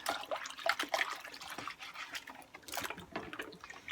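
Water draining out of a kitchen sink, a close, uneven gurgling trickle with irregular drips and splashes running steadily throughout, no voices over it.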